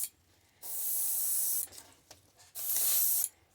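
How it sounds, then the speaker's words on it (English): An airbrush hisses out Createx Opaque White paint onto a fishing crankbait in two sustained bursts of about a second each, separated by short pauses with faint clicks, close and clear. "then we're just going to start spraying him"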